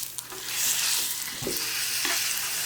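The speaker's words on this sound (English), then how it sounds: "Throw in the pan. We've got a good sizzle." A bison steak sizzles steadily in a hot pan, a loud hissing fry with a few soft scrapes and no talk.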